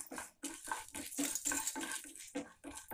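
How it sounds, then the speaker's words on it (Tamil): Urad dal sautéed in sesame oil in a pan for a pirandai chutney, heard as steady rhythmic scraping strokes of a spoon against the metal pan with a soft sizzle, close and moderately loud, with no talking. "இப்போ இதிலே உளுத்தம்பருப்பு, கொஞ்சம் உளுத்தம்பருப்பு சேர்த்து வதக்கிங்க."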